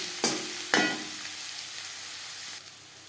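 Chopped onions hit hot mustard oil in a pan, with two sharp bursts of sizzle followed by a steady close hiss and light stirring scrapes while masala for masala dosa is prepared.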